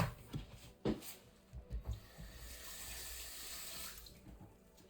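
Tap water runs steadily into a sink while rice is washed, with a few knocks and rubbing sounds near the start before an even, close running-water hiss settles in.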